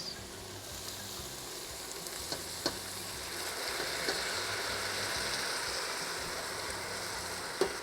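Salt fish and rice fry and get stirred in a pot, a steady close sizzle with occasional scraping stirs and clinks, no talking.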